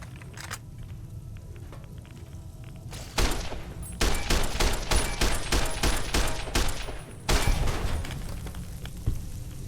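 Sustained gunfire from many weapons in Fallout: New Vegas, a dense run of rapid bursts and heavy thumps with several loud volleys, brief pauses between them, close and loud with no talking.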